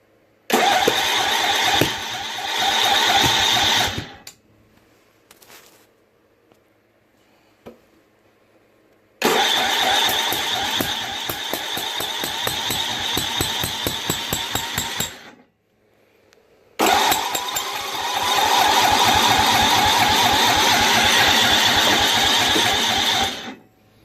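A 6HP Tecumseh engine on a Snapper 25066S riding mower, with the choke stuck open, cranks and catches in three long bursts of loud, near chugging separated by quiet gaps, with faint knocks in between.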